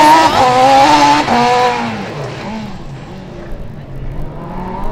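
A Formula Student race car on an autocross lap at Formula Student Germany 2012, its engine loud and close with rising and falling pitch as it accelerates and shifts, then fading as it pulls away, with faint noise behind.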